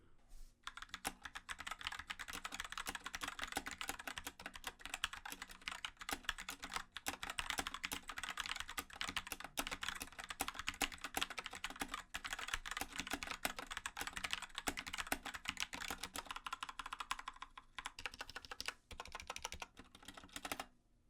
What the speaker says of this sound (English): here's a quick sound test of the Gateron Reds on the CK550